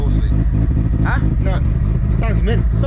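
A big-turbo semi-peripheral-port Mazda FD RX7 rotary engine idles loudly and close by with a choppy, brappy lope, and people talk over it.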